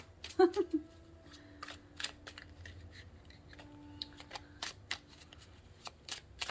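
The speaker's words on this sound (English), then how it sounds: "Sometimes I shuffle in between pulls, sometimes I don't." Oracle cards shuffled by hand during a multi-deck reading, giving scattered brief riffling and snapping bursts spread over several seconds at close range, with a quiet voice-like tone near the start.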